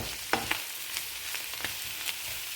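Mushrooms frying in a pan are stirred with a spatula, giving a soft, low crackle with several light scraping strokes spread across the stretch, quiet and close.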